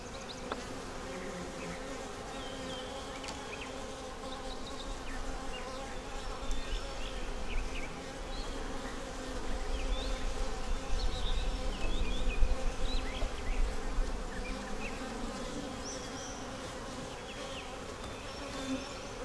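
Honeybees and drones buzz steadily around an open hive during an inspection, a dense, continuous insect drone that swells a little louder midway and holds close throughout, with no talking.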